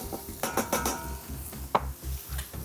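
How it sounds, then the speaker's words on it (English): Stir-fry tossed in a wok with metallic clanks and scraping knocks in an irregular rhythm, several sharp hits over a low background rumble, fairly quiet and close. "This is where mastering that art of the wok toss is really important as well, so everything gets a good coating."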